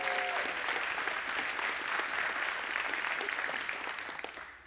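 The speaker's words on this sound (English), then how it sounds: "so you probably should have applauded louder than that" Audience at a state of the city address breaking into sustained, dense applause from a room of seated guests, holding steady before tapering off toward the end.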